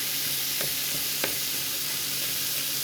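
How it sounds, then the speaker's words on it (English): A sauce sizzles in a pan as it is stirred, with a steady frying hiss throughout and two brief scraping knocks from the spoon. "Give that a nice stir."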